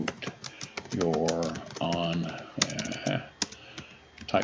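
Rapid clicking of computer keyboard keys, close and fairly loud, running beneath a voice that talks over most of the stretch.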